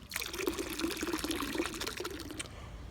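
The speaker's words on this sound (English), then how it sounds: "I have a 32-ounce bottle, and I'm going to pour the whole thing in there." Hydrogen peroxide glugs and splashes as a 32-ounce bottle is poured out, a continuous close trickle with bubbling pulses before it tails off near the end.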